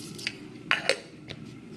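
Dried mango pieces knock around inside a small grinder jar, making a few sharp, hard clicks and rattles against a quiet, faintly humming background.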